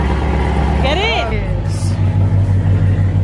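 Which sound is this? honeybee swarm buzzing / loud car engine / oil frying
loud car engine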